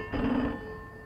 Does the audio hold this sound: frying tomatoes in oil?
no